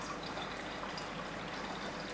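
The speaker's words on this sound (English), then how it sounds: "So now I'm just going to pour in the distilled water until it gets up to 1 litre." Distilled water poured steadily into a container while it fills toward one litre for a coolant mix, a continuous close hiss and gurgle without pause.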